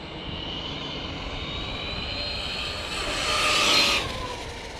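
A Tekin-powered Losi LMT radio-controlled monster truck on a speed run, its electric motor whining steadily and rising to a louder, higher pass near the end before fading, no voices.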